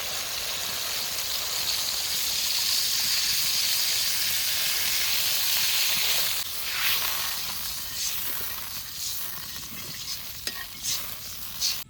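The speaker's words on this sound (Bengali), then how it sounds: "ঝোলের জন্য এবার জল দিয়ে দেবো।" Water poured into a hot pan of spiced hilsa curry base makes a loud steady sizzle and hiss. The sizzle fades after about six seconds into bubbling and occasional clinks of stirring.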